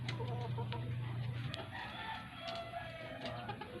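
A four-month-old rooster clucks repeatedly on a rural farm in the province. The low, steady calls are fairly close and dominant early on, with other birds chirping faintly in the background.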